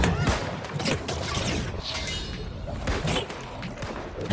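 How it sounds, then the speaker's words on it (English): Rifles fire in quick succession in an online video game, a dense run of sharp cracks and thuds mixed with impacts and action noise. The shots keep coming with no pause across the whole stretch. "They all are using rifles and whatnots."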